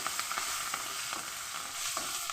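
Slit green chilies stirred and fried in a pan, a steady sizzling hiss with light, regular scraping stir strokes, moderately close and with no talk.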